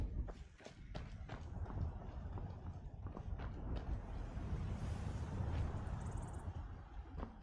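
Horse hooves clip-clop steadily in Skyrim VR, a quick rhythmic patter carried under a dense bed of game noise and ambience.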